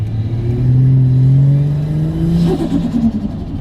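A boosted car engine running around 12 to 13 PSI revs at half throttle, a loud, close growl whose pitch climbs steadily and then wavers and settles toward the end.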